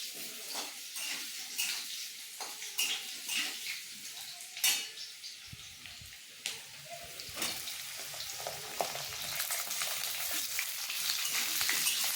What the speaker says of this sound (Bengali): এর মধ্যে আমি সবজিগুলো ভেজে নেব।